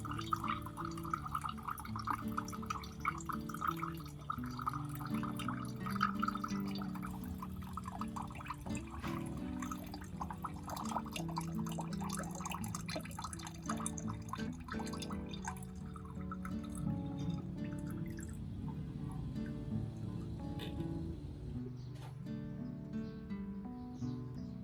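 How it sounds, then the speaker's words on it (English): Blended orchid mixture drips and trickles through a thin cloth or sieve in a quiet, continuous patter of small liquid drops that lasts throughout. "I use a thin cloth or sieve to filter out the solids"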